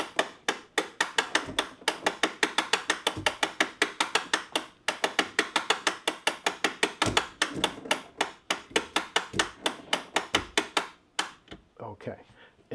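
A clock movement being tightened down so a C-clamp can be removed during servicing, heard as a long, steady run of sharp metallic ratcheting clicks, close and evenly spaced, that slows and stops near the end.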